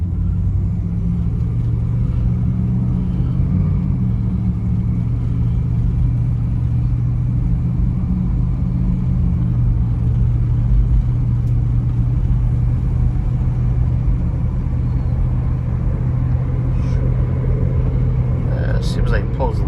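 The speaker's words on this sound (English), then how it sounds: "Taking the Imperial for a test drive again." A 1967 Chrysler Imperial with freshly aired-up tires cruising around the block on a test drive, its steady low engine rumble and road noise filling the cabin at an even level throughout.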